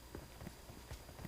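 Faint, rapid hoofbeats thud in an even rhythm as a horse is ridden in a battle-royale video game.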